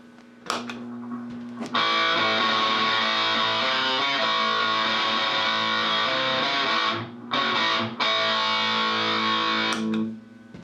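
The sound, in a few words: electric guitar through distortion pedal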